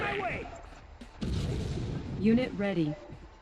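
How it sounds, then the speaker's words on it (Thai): Low booms of enemy artillery fire in Red Alert 2: Yuri's Revenge go off in the background while a person talks over them. "ปืนใหญ่ของฝ่ายศัตรูยัง ยังยิงยังยิงไม่ค่อยเข้าเลย"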